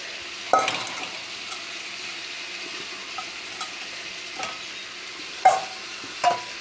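Meat with ginger, onion and tomato frying in a pot for a Malabar-style dum biryani, a soft steady sizzle under a few scraping stirs and light clinks of a utensil against the pot, close by with no talk.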